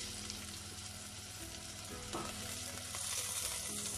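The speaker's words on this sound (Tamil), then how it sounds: "இப்போ தக்காளி நல்லா வதங்கட்டும்." Tomatoes sautéing in a pan for plain kushka biryani, a continuous close sizzle and crackle with slight stirring scrapes.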